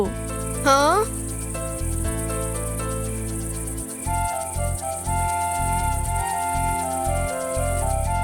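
Crickets chirp steadily at night in a park alongside frogs in an animated children's story, a continuous high insect trill under a rising whistle-like tone and low pulsing music.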